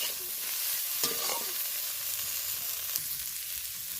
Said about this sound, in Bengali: ডুমুরগুলো দিয়ে দিলাম আর ভালো করে কষাবো আমি মশলার সাহায্যে কিছুক্ষণ নেড়ে চেড়ে এটা কষিয়ে নেব মশলার সঙ্গে